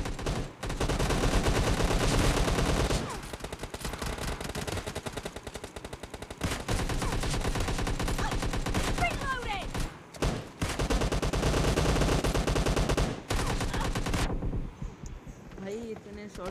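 Bursts of gunfire from a PUBG Lite match, Kar98k bolt-action rifle in play, loud and dense in several long stretches with brief gaps between them.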